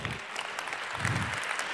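Audience applause fills a hall at the 34C3 hacker congress, a continuous wash of clapping heard from a distance.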